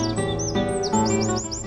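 Small birds chirp and tweet in quick, bright repeated calls, close and clear, with no speech over them.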